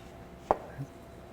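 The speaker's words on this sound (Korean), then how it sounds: "끝부분을 평평하게 썰어줍니다." A knife cuts the end off an orange on a board, one single sharp close chop in an otherwise quiet moment.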